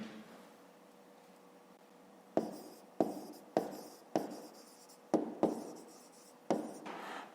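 Handwriting with a pen on paper during a maths exercise: a quiet hush, then a series of about eight crisp scratching strokes at uneven intervals, close and soft, with no voices.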